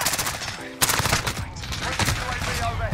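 Rapid automatic gunfire in the Modern Warfare shooter, dense loud bursts with a sharp onset, continuing through the clip alongside game sounds and a voice speaking.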